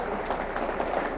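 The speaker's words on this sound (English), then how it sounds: "I would guess that applause means, why don't you just kind of pretend like that's the end and sit down" Brief burst of audience applause at a lecture, a soft, fairly distant patter of many hands heard alone for about a second.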